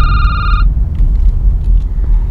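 A telephone rings in the horror video game Security Booth, one brief electronic ring at the start over a loud low rumble that continues after it stops.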